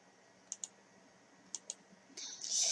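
Mouse clicks close a browser tab on a computer: two quick pairs of crisp clicks about a second apart, followed by a brief louder hiss at the end.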